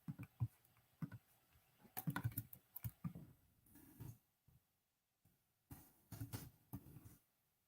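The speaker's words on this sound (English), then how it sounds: "Let's just type that in here." Fingers type on a computer keyboard in quick irregular bursts of clicks, with brief pauses between runs of keystrokes, close and fairly quiet.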